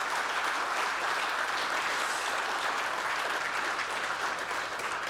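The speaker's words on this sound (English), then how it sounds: "What a round of applause for each and every one of them." A large audience at an innovation awards ceremony applauds the winners and finalists: dense, sustained clapping that stays loud and steady throughout, with no voices on top.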